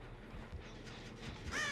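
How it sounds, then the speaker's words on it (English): A crow caws indoors, a faint, muffled bird call that rises near the end over a quiet room with no talking. "how many crows can be indoors?"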